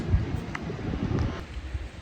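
Wind gusting outdoors at a pigeon loft, a steady low rumble with buffeting against the microphone and faint rustling, moderately loud and continuous with no talk.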